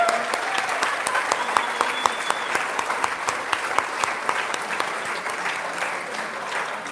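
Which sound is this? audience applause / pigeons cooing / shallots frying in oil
audience applause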